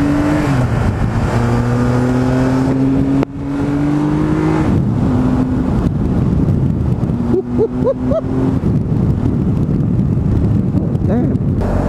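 Engine of a 2016 Triumph Tiger Explorer XRT motorcycle on the move, a loud steady hum rising and falling through gear changes amid heavy wind buffeting, with a rider talking over it.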